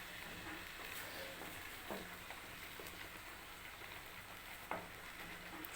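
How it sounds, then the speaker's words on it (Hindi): Chicken qorma masala being fried in a pan, a steady broadband sizzle running throughout with a few soft clinks of a stirring utensil, close and fairly quiet. "इसको भूनते हैं थोड़ी देर।"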